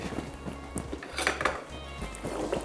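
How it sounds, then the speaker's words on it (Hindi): A spoon clinks and scrapes against a metal pot while aloo gosht is mixed after the potatoes go in, giving steady close clatter with light metallic chinks. "फाइनली हमने इसमें डाल दिए हैं आलू, और इसको कर देंगे मिक्स"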